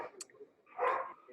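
A dog barks a couple of short, sharp times in the background of an online video call, the barks fairly faint and distant within an otherwise quiet room.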